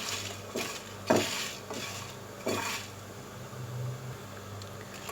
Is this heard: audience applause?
no